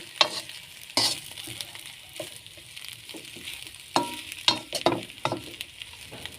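Potatoes fry in a skillet over very low heat, a steady soft sizzle broken by repeated close scrapes and clatters as they are stirred.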